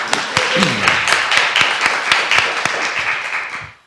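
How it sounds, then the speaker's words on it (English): Dense crowd applause with sharp claps rising and falling, steady for several seconds before fading out at the end. "Give yourselves a round of applause for that."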